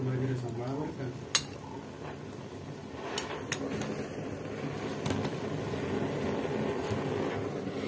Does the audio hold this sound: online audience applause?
no